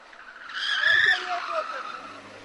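A Mitsubishi race car loses control at a road race on Tara and skids toward spectators, giving a brief, rising tyre squeal that swells and fades within about two seconds against faint background noise.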